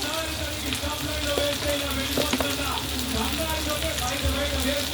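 Okra (bhindi) sizzling steadily in a pan with chili powder, salt and coriander powder, a constant crackling fry with occasional spits and pops, close and even throughout.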